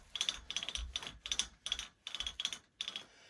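Handi Quilter longarm quilting machine ratcheting as a quilt is wound onto its rollers, a run of quick clicking bursts in a steady rhythm, close and moderately loud with no voices.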